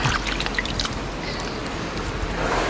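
Kelp is rinsed in clean water, with continuous close splashing and trickling that has a faint hint of voice behind it.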